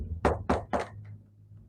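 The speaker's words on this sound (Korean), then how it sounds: "내가 문 밖에 서서 문을 두드리노니" Knocking on a door: three firm, evenly spaced knocks, close and fairly loud, then quiet room tone.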